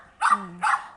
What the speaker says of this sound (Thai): ได้ยินเสียงหมาเห่าใช่ไหม